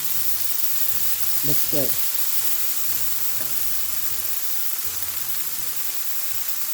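Chicken pieces frying in a pan for salad prep, a steady loud hiss and sizzle throughout with faint clinks of stirring, and a brief spoken comment over it.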